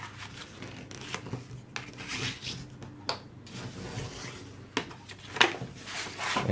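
Paper is creased into a valley fold all the way across a sheet for a paper purse card, giving soft scattered rubs, slides and crisp taps at close range with no talking.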